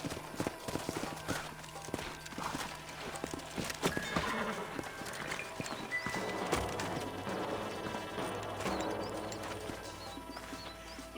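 Horses trot along in the video game Red Dead Redemption with a rapid, uneven clip-clop of hooves, mixed with creaking and clattering mechanical sounds, moderately close.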